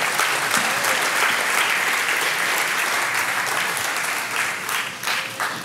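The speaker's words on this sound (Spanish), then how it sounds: "Puede tomar su lugar dando un fuerte aplauso al Señor Jesucristo." A church congregation gives a loud, steady round of applause for several seconds, dense and continuous, fading slightly with a few scattered claps at the end.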